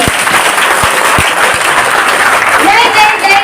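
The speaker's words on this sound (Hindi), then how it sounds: "जब मैं 3 बोलूंगी तो आपको तालियां मारनी है" An audience at a team celebration in Ludhiana breaks into loud, close clapping that carries on rather than stopping at a single clap, with voices mixed in beneath it.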